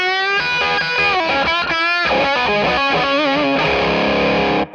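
A Schecter Omen Extreme-6 electric guitar plays distorted chords and melodic runs through an Orange Rock Reverb 50 Mark III amp and vertical cab, loud, sustained and close, with no talking.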